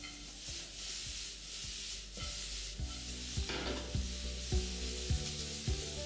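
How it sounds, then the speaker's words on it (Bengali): Sliced onions fry in a pan for a chicken snack recipe, giving a steady close sizzle under repeated rhythmic scrapes and knocks of a spatula stirring against the pan. "তার জন্য একটু ধৈর্য ধরে যতক্ষণ না পেঁয়াজের মধ্যে কালারটা আসে ততক্ষণ অবধি আপনাদের ভাজতে হবে।"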